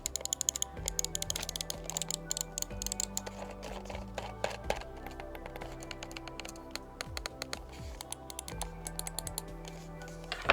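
Rapid computer mouse button clicks during a sound test, many crisp, close taps in irregular quick runs over a low steady background hum, with no speech.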